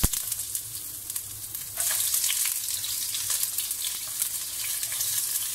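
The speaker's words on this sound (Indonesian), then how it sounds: "Okey, masukkan bawang dulu." Onions dropped into hot oil in a pan while cooking Korean-style fried beef, a loud, steady sizzle that swells sharply partway through and keeps crackling close up without pause.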